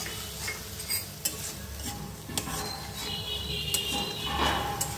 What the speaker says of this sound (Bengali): এবার গুঁড়ো মশলা দিয়েও 2 মিনিটের মতন ভেজে নেব।